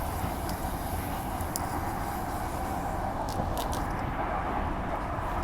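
Transperth A-series electric train on the Armadale line running between stations, a steady broadband rumble of wheels and motors heard from inside the carriage, continuous and even with a few faint high clicks.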